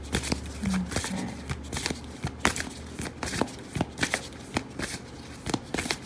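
Moonology oracle cards shuffled close by in a steady run of crisp riffling snaps and slaps, repeated rhythmically over several seconds with no talking.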